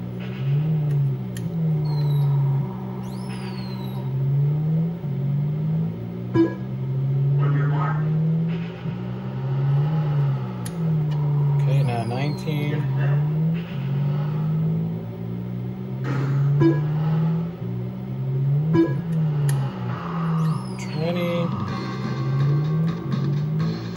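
Car engine revving in repeated waves as the throttle is opened progressively further, a steady droning whine rising and falling over and over at moderate level, with a voice talking over it.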